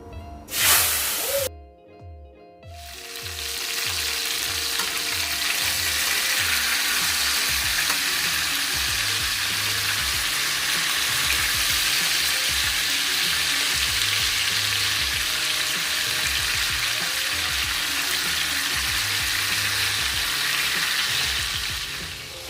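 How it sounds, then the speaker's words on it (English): After a brief clatter, chicken for fricassee hits a hot pan and sizzles loudly and steadily, a dense crackling hiss that continues without pause. "while the meat is frying"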